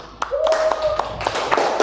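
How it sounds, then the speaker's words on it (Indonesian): A class claps hands in short, sharp, separate claps that rise in rhythm, with a brief high voice or whistle-like tone heard under the clapping. "Tepuk tangan buat semuanya."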